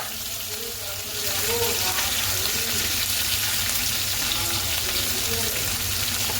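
Capsicum and onion frying in a pan, a steady hissing sizzle that grows louder after about a second and keeps going, with no talking.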